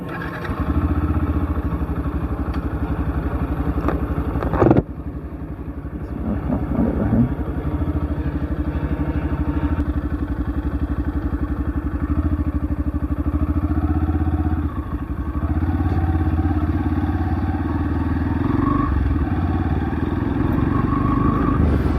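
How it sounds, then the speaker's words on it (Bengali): A motorcycle ridden on off-road terrain, its engine running loud and steady throughout with a sharp knock and clatter partway through, heard close and alone. "অফ-রোডিং রাইডিংয়েও বাইকটি বেশি স্মুথ।"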